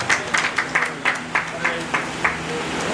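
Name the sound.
audience applause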